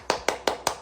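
Four sharp hand claps at a steady, even rhythm, each a crisp near slap with a short decay, alone without talk, from someone leading a round of applause.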